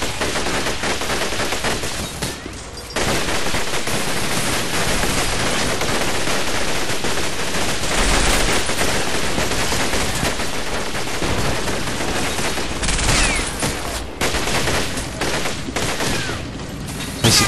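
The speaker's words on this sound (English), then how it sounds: "I keep shooting it until it's destroyed because the crew can get inside it still" Dense, sustained gunfire from a WWII tank-combat game, with rapid machine-gun bursts and heavy shots layered into a loud, continuous battle din that barely lets up.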